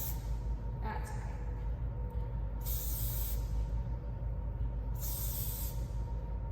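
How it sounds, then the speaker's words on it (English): Hairspray from an aerosol can sprayed onto hair before a performance in two long hissing bursts, each lasting about a second, loud and close over a steady background hum. "then I would get my hairspray and I start spraying"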